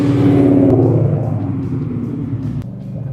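Deep V8 rumble from a 2014 American Muscle Project Coyote Mustang, loud and close, with a strong rev swelling early, then settling into a steady throaty idle-like drone.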